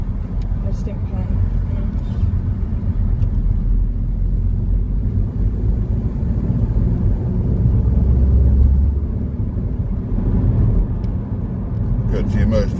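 A car drives steadily through traffic and merges during a driving lesson, its engine and road rumble a constant low drone under quiet cabin conversation.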